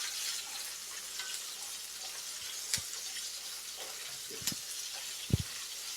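Chopped green chillies sizzle in a pan over a high flame, a soft continuous frying hiss broken by a few sharp scraping stirs.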